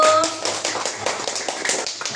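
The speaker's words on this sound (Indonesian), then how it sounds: "Berikan tepuk tangannya anak-anak Ibu" Schoolchildren in an Indonesian classroom clap together, a quick cluster of rhythmic hand claps close by, with a brief tone at the start and a noisy room behind.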